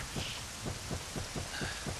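Rain in the Zelda game Ocarina of Time hisses steadily, with low rumbles of thunder pulsing in an even rhythm beneath it and no voices.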